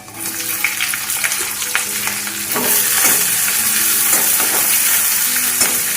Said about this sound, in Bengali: এবার দেব আমি রসুন কুচি আদা কুচি দিয়ে দেব পেঁয়াজ